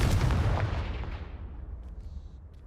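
A Confringo fire spell blasts a pile blocking a stairwell in the Hogwarts Legacy video game, one loud booming explosion that rolls and fades over a couple of seconds, with no voices.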